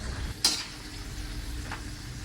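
Spinach bhaji, palak pakoras, fry in hot oil with a soft, steady bubbling sizzle, interrupted by one brief clink of a utensil near the start.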